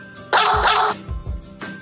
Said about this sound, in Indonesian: anjing